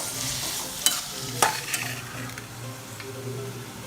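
Garlic and native tomatoes sauté in a pan with a continuous sizzle, and a spoon stirs and scrapes with a few sharp clinks against the pan partway through. No one speaks.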